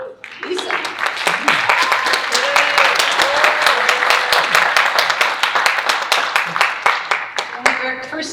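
An audience applauds loudly and continuously at the TDF Wendy Wasserstein award ceremony as schools are acknowledged. The thick, crackling clapping is punctuated by sharper individual claps, and a voice talks over it.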